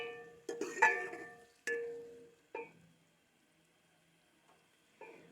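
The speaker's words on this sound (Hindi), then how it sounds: "तो अब हम इसे फ्राई करेंगे, बहुत ज़्यादा नहीं करेंगे, लेकिन हम इसे फ्राई कर लेंगे" Aloo pakoriyan frying in a pan, heard as a few separate bursts of sizzle and clatter that die away into near silence, close and moderately loud, with no talking.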